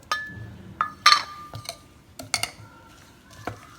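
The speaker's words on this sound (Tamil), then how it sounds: "ஸோ கலந்து வச்சுட்டாக்க நமக்கு அடை மாவு ரெடி நல்லா கலந்துருங்க" Thick adai batter is mixed in a bowl with a utensil, making sporadic close clinks and knocks against the bowl with soft wet squishing between them.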